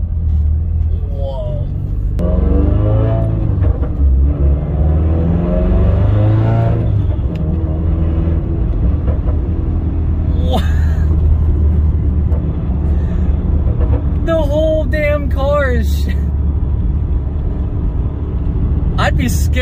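A Subaru WRX fitted with a solid transmission mount drives along with a loud, steady engine and road rumble inside the cabin. Someone talks excitedly throughout.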